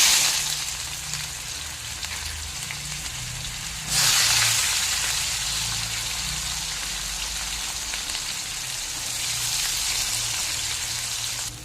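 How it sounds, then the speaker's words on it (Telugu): Onions sizzling steadily in a hot pan with oil, a dense continuous crackle that jumps louder a few seconds in as more onions hit the pan, then holds even with no talking. "మనము ఉల్లిపాయలు వేగుతాయి"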